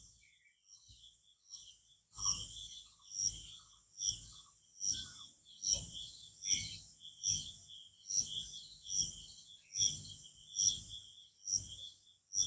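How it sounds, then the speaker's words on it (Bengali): Crickets chirp in a quiet village, their shrill calls pulsing in an even, repeating rhythm roughly every second, close and clear against a hushed background with only faint hints of birds. "ঝিঝি পোকা আশপাশে কোথাও ডাকছে। ঝিন ঝিন ঝিন ঝিন করে একটা ডাকছে।"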